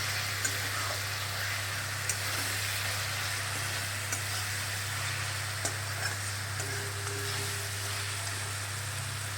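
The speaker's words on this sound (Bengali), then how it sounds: "আগে এটা একটু ভাজা ভাজা হোক" A continuous sizzle of spices frying in oil for chicken curry, steady and close, with a low hum beneath and a few faint clicks of stirring.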